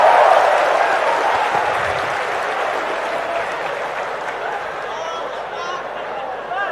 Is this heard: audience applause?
yes